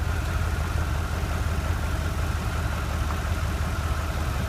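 A 1991 Chevrolet Caprice engine idles with a steady, low rumbling hum that holds even and unbroken throughout, close by and moderately loud.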